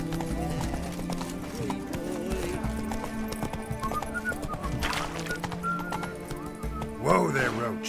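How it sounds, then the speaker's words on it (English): Horse hooves clip-clopping at a gallop with a sharp whinny near the end in The Witcher 3, under background game voices and ambient sounds. "Whoa there, Roach."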